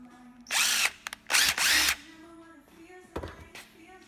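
A power drill whirs loudly in two short bursts, then a brief third, while a screw is backed out of a STIHL FS 38 curved shaft trimmer, with quiet handling noise in between.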